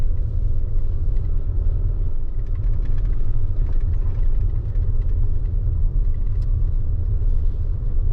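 Trucks waiting at a railway crossing send out a steady low engine rumble and idle, constant and fairly loud, with no voices over it.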